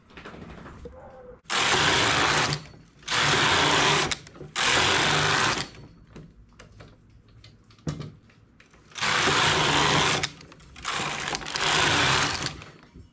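A knitting machine carriage is pushed slowly across the needle bed in five bursts, each a loud close whirring rattle of about a second, separated by quiet pauses with faint clicks and handling noises.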